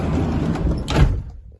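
The door of a 2014 Peugeot Solway Spirit camper van being pulled shut, a single solid thud near the end after some shuffling and handling, then quiet.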